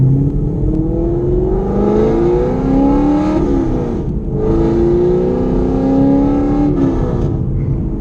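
A Chevrolet Camaro engine revs steadily while driving, its pitch climbing and dropping through a couple of gear shifts, loud and close with no talking.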